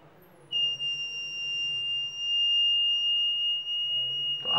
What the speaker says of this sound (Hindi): तो आप देख रहे हैं हमारा बजर बज रहा है